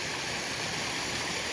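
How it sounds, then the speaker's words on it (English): A waterfall in a creek gorge at Prairie Hollow Gorge, Missouri, makes a steady, loud rush of falling water, continuous and close, with no voices. "I was just paying more attention to the waterfall over here"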